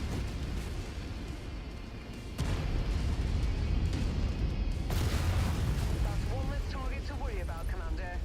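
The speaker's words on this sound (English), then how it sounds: "Get away from the explosion!" Explosions in the mech combat game MechWarrior 5: heavy low booms and rumbling blasts that jump louder partway through, followed by crackling debris and whining mechanical tones, with a voice talking over parts of it.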